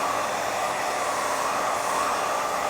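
A hair dryer blow-drying hair in a salon gives a steady, loud, airy roar that stays unbroken and even throughout.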